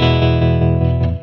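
Electric guitar played through a Native Audio Rising Sun optical tremolo pedal set to tap tempo, a loud sustained chord pulsing in an even rhythmic throb before cutting off.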